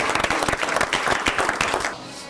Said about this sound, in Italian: Facciamoci un bel applauso